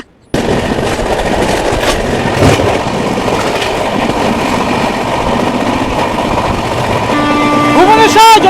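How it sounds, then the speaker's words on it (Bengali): The Bhubaneswar Jan Shatabdi Express, train 12703, rushes past close by, a loud sustained roar of wheels and carriages with rhythmic rail clatter, and squealing tones near the end. "ভুবনেশ্বর জনশতাব্দী এক্সপ্রেস এই মুহূর্তে আমাদের সামনে দিয়ে ক্রস করে চলে আছে"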